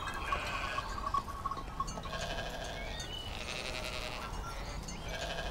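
Sheep bleating in a field, several wavering, nasal calls overlapping at moderate distance over a steady outdoor background, with no talking.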